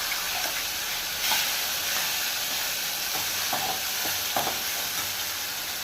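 Curry leaves and ground paste fry in a pan with a steady, loud sizzle and hiss, with a few soft stirring clatters near the end.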